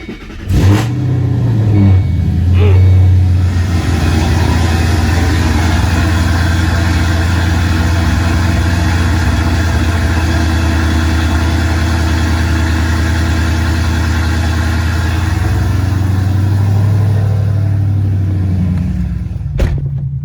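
A Ford Mustang engine runs loud and close for about twenty seconds, a steady deep idle with a brief rev near the start and a slight change in pitch near the end.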